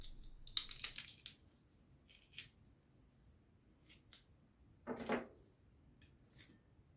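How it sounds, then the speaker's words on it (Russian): Quiet squeezing and crunching of garlic cloves in a garlic press, several short metallic clicks and squelches in bursts separated by silence. "чеснок 6 зубчиков, выдавливаю его через пресс."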